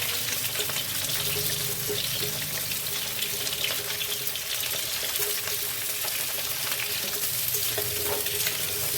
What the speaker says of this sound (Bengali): তো চলো এবার এক এক করে পটলগুলি আমি ভেজে নিই